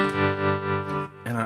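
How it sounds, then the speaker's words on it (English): Electric guitar played through a tremolo effect, a sustained chord with steady pulsing swells in volume, then a fresh chord struck near the end. "one of my favorite tones ever has always been the tremolo,"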